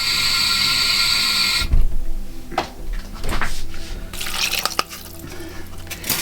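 Water is poured into a pan of steak and vegetable pie filling seasoned with oregano, a splashing liquid rush over a sizzling start, with a few knocks and clatters along the way.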